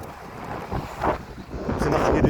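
Gusty wind buffets a microphone outdoors, a broad low rumble that swells and surges louder toward the end, with faint voices mixed in.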